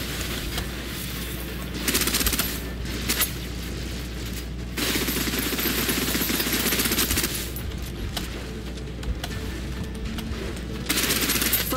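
Sustained suppressive gunfire in the shooter game Snowbreak, with repeated loud automatic bursts separated by brief gaps over a steady low game hum, close and continuous.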